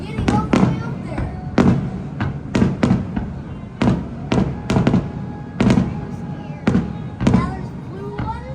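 Fireworks burst over Waikiki during the Honolulu Festival, a steady run of sharp cracks and booms at irregular intervals, fairly close and loud, with crowd murmur and voices underneath.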